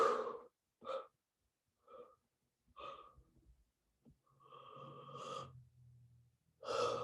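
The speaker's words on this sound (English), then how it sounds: "Deep breath." A person takes a series of deep, close breaths during a calm affirmation session: several separate sharp inhales and long exhales with short pauses between them, ending in a strong final intake of breath.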